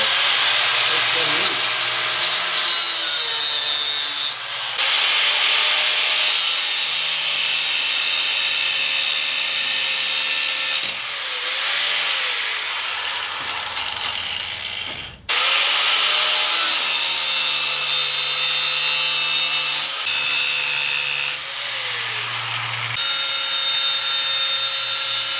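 An angle grinder cuts off bolts during final assembly of blacksmith-made scale armor, giving loud sustained screeching grinding in several long passes, each broken by a short pause where the pitch drops and then climbs again.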